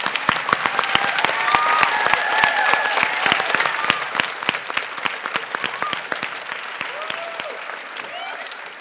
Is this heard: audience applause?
yes